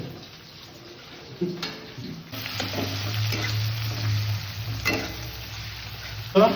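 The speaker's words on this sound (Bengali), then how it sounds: "আলুগুলোকে ভালো করে কষাচ্ছি আমরা" Potatoes sautéing in a pan for a South Indian-style chicken curry, giving a steady close sizzle with occasional clatters of stirring, louder in the second half.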